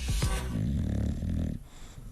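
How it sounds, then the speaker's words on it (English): A man snoring, with a few rough, rattling breaths, loud and close, that fade into quiet. "Guy snoring."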